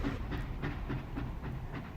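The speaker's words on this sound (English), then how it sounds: "the train appeared from the darkness. It screeched forward on its tracks, bolting past me" A train rolls past in the dark, a continuous loud rumble with rhythmic clattering wheel beats and a faint high hiss carrying through the whole passage, with no voices.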